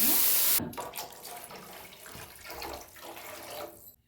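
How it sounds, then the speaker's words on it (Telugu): Water is poured into a pan of fried chopped coriander and fenugreek leaves while rice rava upma is cooked, giving a steady gushing splash that starts with a sharp burst and runs for several seconds before stopping. "ఇప్పుడు వాటర్ వేసుకుంటున్నాను."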